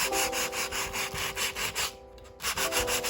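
Hand-sanding wood-grain painted putty (Isamu raku-togi putty) with 180-grit sandpaper, light up-and-down strokes making steady rhythmic rasping, close and fairly loud, with a brief pause near the end before strokes resume.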